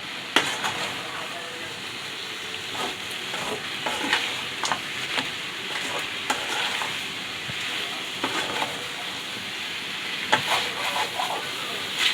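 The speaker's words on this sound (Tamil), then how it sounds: "அரைச்சி வச்ச மசாலா பூரா ஊற்றி ஒரு பத்து நிமிஷம் தட்டு போட்டு மூடி மூடி எண்ணெய் பிரியிற வரைக்கும் கொண்டு வரணும்" Onion chicken masala with ground spice paste sizzles and fries in a pan covered with a plate, a continuous crackling hiss with scattered sharper pops and clicks throughout.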